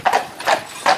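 A Friesian horse's hooves clip-clop in three sharp, close, loud beats in quick succession, alone without talk.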